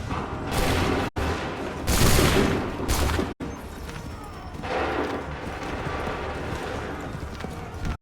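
Musket volleys in Assassin's Creed III, loud ragged bursts of massed firing separated by short gaps, followed by rumbling battlefield noise, with shouted commands nearby.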